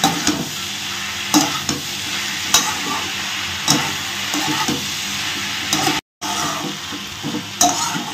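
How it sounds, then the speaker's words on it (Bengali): A paste of ginger, garlic and tomato sautés in a pan with spices for a bamboo shoot curry: a loud, continuous sizzle, close up, with occasional spoon scrapes and a brief cut near the end. "দিয়ে এরপর আমি মশলাটা ভালো করে কষিয়ে নেব।"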